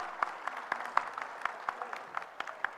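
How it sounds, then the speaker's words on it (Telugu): Audience applause at a celebration event, with scattered, moderately loud claps forming a light, uneven patter throughout, without any voices over it. "ఒకసారి గట్టిగా చప్పట్లు కొడదాం అందరం."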